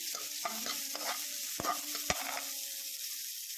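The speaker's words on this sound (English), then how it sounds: "And here saute the garlic and the onion well." Garlic and onion sauté in a pan with a soft, continuous sizzle, while a utensil stirs and scrapes several times in sharp, close clicks.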